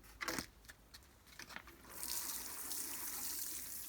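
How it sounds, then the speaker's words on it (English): Freshly sown seeds are lightly watered, a few clinks and handling knocks giving way to a soft, steady stream of water spraying close by, with no talk. "So I'm going to lightly water that again."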